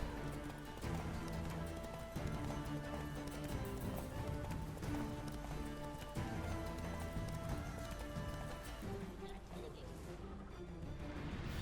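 Bandits' horses in The Witcher 3 game, hooves clip-clopping in a continuous galloping rhythm with an occasional whinny, over game music and sound effects.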